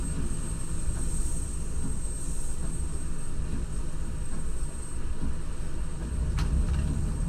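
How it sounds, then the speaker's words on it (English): A steady, broad engine roar of an aircraft taking off at Frankfurt Airport in Fernbus Coach Simulator, loud and continuous, with a high whine riding on top and a brief sharp click near the end. "I can hear an aeroplane taking off."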